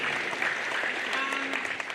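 Students at a school recognition assembly clap and cheer steadily for two seconds, a dense, even wash of applause with scattered whoops and crowd voices mixed in.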